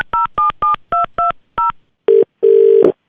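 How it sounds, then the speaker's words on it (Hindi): A telephone number is dialed in a sequence of seven short, loud DTMF keypad tones in uneven rhythm, then two lower, longer tones as the call connects, all close and with no talk. "आपने जो नंबर दे रखा है अपनी गर्लफ्रेंड का, मैं उस पर फोन कर रहा हूँ"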